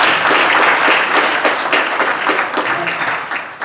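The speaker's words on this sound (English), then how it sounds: "Let's give them a round of applause" Audience applause at a community forum on forests and working lands, with dense sustained clapping from a room full of people that stays loud throughout and eases off slightly toward the end.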